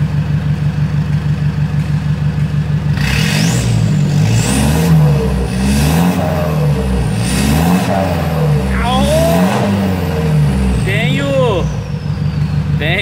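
A Toyota Hilux engine revs up and down repeatedly at close range, its pitch climbing and falling in several rhythmic surges over a steady running drone, with voices faintly present.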